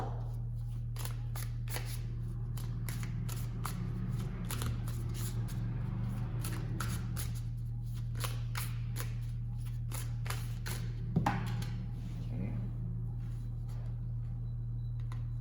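Tarot cards are shuffled by hand in a quiet room, a rapid series of crisp riffling snaps and slaps repeating through the clip over a steady low hum.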